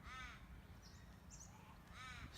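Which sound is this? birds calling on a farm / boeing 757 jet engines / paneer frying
birds calling on a farm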